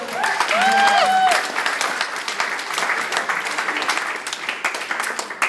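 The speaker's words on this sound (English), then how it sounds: "So can we have a big round of applause for them?" Wedding guests clap in a warm crowd round of applause for improv singers, with a brief bit of sung melody fading at the start, then sustained clapping to the end.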